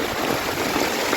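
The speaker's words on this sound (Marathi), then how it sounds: "आवाज कसा येतोय मस्त पाण्याचा." Rushing stream water swollen after monsoon rain, a steady broadband wash heard close and alone for the whole brief moment.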